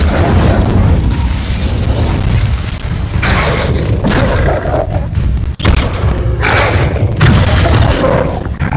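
Incendio fire spell bursts in Hogwarts Legacy, a loud, dense roaring whoosh with booming impacts and crackling fire swells, repeated several times over a continuous game soundscape, with no speech.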